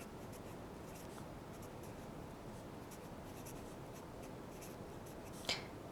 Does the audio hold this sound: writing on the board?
yes